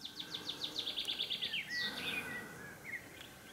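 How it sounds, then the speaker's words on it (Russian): Birdsong at the close of a summer day, a run of quick repeated chirps followed by a longer descending whistled phrase and a few softer calls, fairly faint and alone. "Вот вам пение птиц на сон грядущий."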